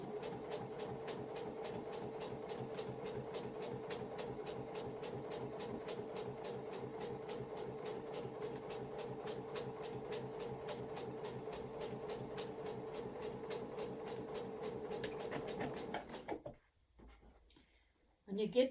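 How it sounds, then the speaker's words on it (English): Sewing machine stitching along the stitch lines of a fabric bag with right sides together, a steady fast rhythmic whirr running continuously for about sixteen seconds before stopping, followed by brief quieter handling sounds. "I'm sewing right on the little stitch lines"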